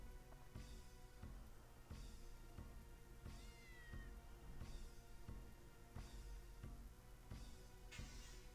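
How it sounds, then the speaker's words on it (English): A cat meows repeatedly in the video game Dark Cloud, short cries recurring at a steady rhythm about every second and a half over a soft continuous background, faint overall. "let's go pick up the kitty cat that got struck by a lightning bolt"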